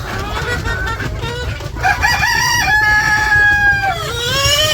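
Chickens on a village farm in Bangladesh, near and loud, with a rooster crowing in long drawn-out calls over steady clucking and a busy background.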